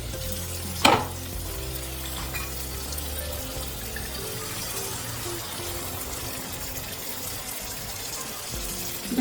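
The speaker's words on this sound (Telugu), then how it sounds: "ఇప్పుడు నేను ఈ వాటర్ కర్రీలో వేసేస్తాను." Water left from washing crabs splashes into a pan of sizzling Telangana-style crab curry with a sharp burst near the start, then a steady frying hiss carries on close up.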